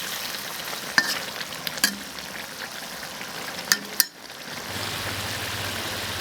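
Loach stew simmering in a pot after green chili peppers are added, a steady soft bubbling sizzle with a few sharp clinks of a utensil against the pot and a brief dip near the end.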